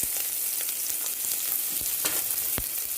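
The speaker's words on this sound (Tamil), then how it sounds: "பெரிய வெங்காயம் போட்டு நல்லா வதக்கிட்டு வெங்காயம் வதங்க போகுது." Onions sautéing in hot oil with spices and curry leaves for a sambar, a steady broadband sizzle throughout with occasional louder pops and crackles, close and alone.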